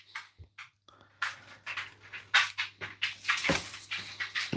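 A dog makes a string of short whimpers, yips and snuffling sounds in a kitchen during a casual card game. The sounds are close and come in irregular bursts that grow busier toward the end, with a low hum underneath.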